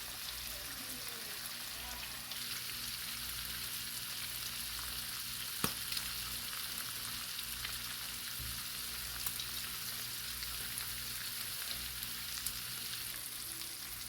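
Bacon strips fry steadily on a non-stick griddle, giving a continuous dense sizzle and crackle with occasional sharper pops, close and uninterrupted with no talking.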